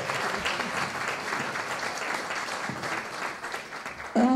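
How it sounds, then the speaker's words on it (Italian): An audience at a conference on oncological aesthetics applauds steadily for several seconds, a moderate, fairly distant clapping from a seated crowd that fades near the end. "Quindi un applauso."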